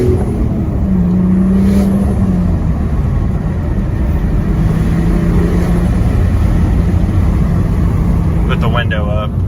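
Turbocharged BMW E46 engine drones steadily while cruising, a continuous loud low rumble with road noise inside the cabin as someone talks over it.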